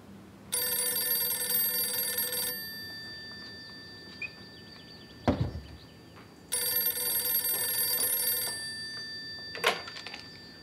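A telephone bell rings in two loud, close bursts of about two seconds each, separated by a pause with a brief thump and rustle.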